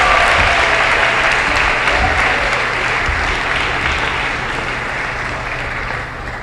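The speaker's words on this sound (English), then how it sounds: "so you should hold your applause, I think" Audience applause fills a school prize-giving ceremony at Stanstead College: dense, steady clapping from a large crowd that continues throughout and eases slightly toward the end.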